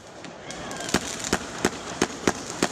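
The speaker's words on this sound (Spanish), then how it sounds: "estos estallidos de fuegos artificiales irrumpen el sueño y la calma en varias ciudades de la nación" Fireworks bursting over a city at night, a series of sharp cracking booms spaced roughly every third of a second, fairly close and loud above a steady murmur of background noise.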